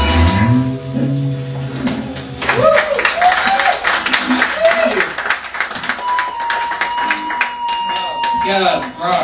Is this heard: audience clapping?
yes